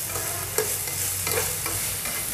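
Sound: chicken being stirred and fried in a pan

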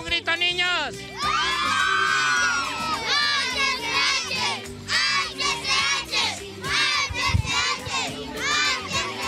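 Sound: children shouting together

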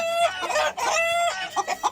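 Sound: rooster clucking

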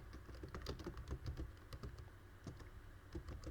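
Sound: typing Python code on a computer keyboard

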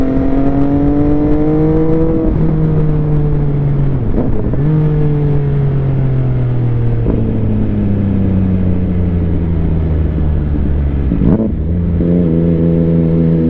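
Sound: three-cylinder motorcycle engine revving

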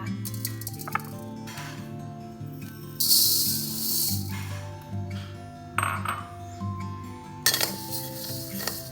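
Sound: dry-roasting raw rice grains in a pan

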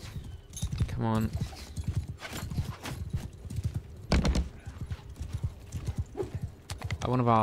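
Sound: horses galloping in a video game, Bannerlord horse archers

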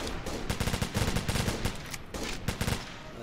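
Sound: gunfire in the video game Operation Flashpoint: Dragon Rising

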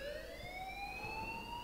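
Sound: alarm ringing in the video game Life is Strange

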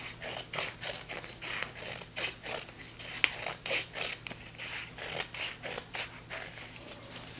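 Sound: cutting kinesiology tape in half with scissors

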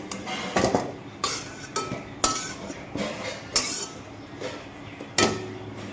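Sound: boiled bitter gourd being put onto a plate

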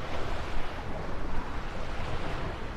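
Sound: strong wind

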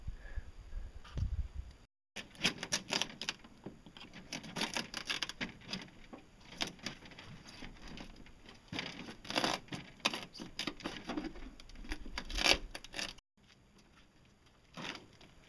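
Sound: sanding fiberglass with sandpaper

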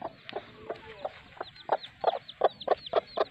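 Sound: hen with newly hatched chicks clucking

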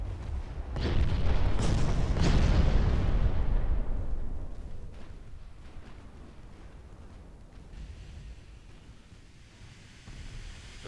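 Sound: detonation explosion in the video game Ultimate Admiral Dreadnoughts

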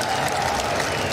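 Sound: audience applause

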